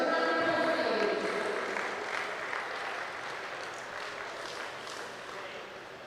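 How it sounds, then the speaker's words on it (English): Applause for a gold-medal winner at a state cycling championship ceremony, steady clapping from a modest crowd that slowly fades, with voices and murmuring underneath. "Give him a round of applause"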